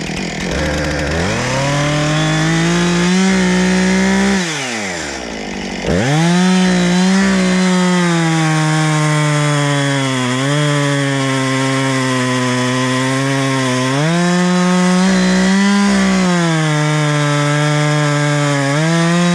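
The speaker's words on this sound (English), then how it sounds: "let's go ahead, fall some timber." A chainsaw felling healthy timber trees at a logging site runs loud and close for the whole stretch, its engine pitch revving up and down with one brief cut-off midway before roaring back under load.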